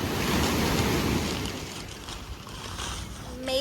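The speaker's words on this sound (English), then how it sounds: "Made it to the Beach. beach. Grand Anse Beach." Surf rolls in at Grand Anse Beach in Grenada, a broad, washing rush of breaking waves mixed with gusting wind against the microphone, loudest at first and then easing slightly.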